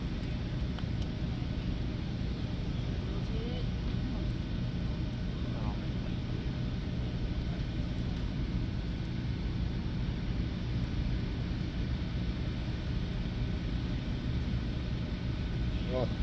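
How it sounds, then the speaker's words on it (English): Drones hum as a steady, dense drone of noise throughout a drone show at the Iola car show, continuous and fairly loud, with people talking now and then over it. "Well, you can hear those drones humming,"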